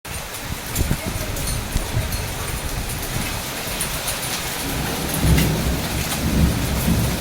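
A hailstorm with rain and thunder, hailstones piling up on a road and around a house, makes a loud, dense and continuous roar of hard drumming that swells louder toward the end.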